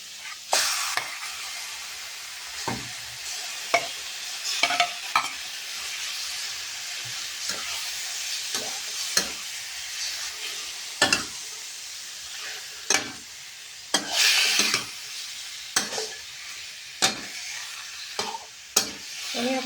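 Herbal chicken being stirred and fried in a pan over high heat, a loud continuous sizzle broken by repeated scraping strokes of the spatula, close up with no talking.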